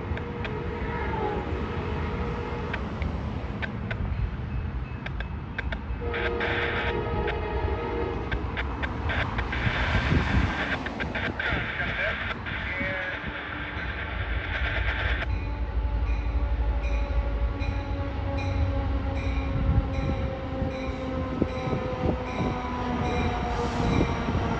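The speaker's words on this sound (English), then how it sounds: "here comes Capital Corridor train 529. Now arriving here at Santa Clara, Great America." An Amtrak Capitol Corridor passenger train rolls into Santa Clara Great America station, steady rumble of wheels with metallic squeals and screeching brakes, a horn sounding, growing heavier as it slows.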